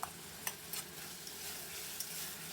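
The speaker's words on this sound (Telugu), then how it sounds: "మనం చికెన్ని ఆయిల్లో బాగా ఫ్రై చేసుకుందాము" Chicken with ginger-garlic paste frying in oil for pulao, a soft steady sizzle with a few light scraping stirs of the spoon, close and fairly quiet throughout.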